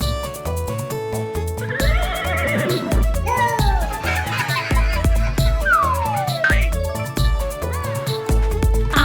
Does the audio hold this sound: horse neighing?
yes